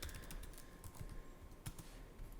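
Quiet, close-up typing on a computer keyboard as a command is entered, a steady run of light keystrokes with a few louder taps.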